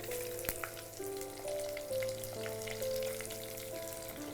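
Chopped and sliced onions sauté with curry leaves in hot oil, giving a soft, steady sizzle with occasional light clicks and scrapes, while faint sustained tones hum quietly in the background.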